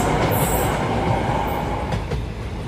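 A train running along the tracks, loud and close from inside the carriage, with a continuous low rumble of wheels and rail noise and faint high squeals over it.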